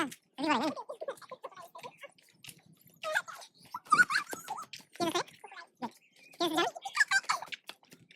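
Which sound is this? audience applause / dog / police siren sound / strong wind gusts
dog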